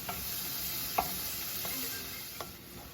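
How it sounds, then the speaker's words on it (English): Onions and celery sauté quietly in melted butter in a skillet, giving a soft, steady sizzle with a few faint stirring clicks and no talk. "we're going to go on and add our onions and our celery to the skillet and begin sauteing these"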